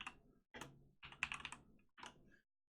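Keys clatter on a computer keyboard in four short bursts of quick taps, close and clear with brief silent gaps between them.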